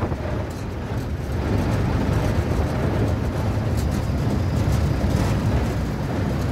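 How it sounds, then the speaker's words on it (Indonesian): Sugarcane plantation locomotive running steadily, heard from on board: a constant loud low rumble and rattle of engine and wheels, holding evenly throughout with no voices. "sekarang saya ada di atas lokomotif nomor 2 Kesan Kopio yang di depan ya"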